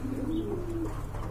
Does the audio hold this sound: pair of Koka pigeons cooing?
yes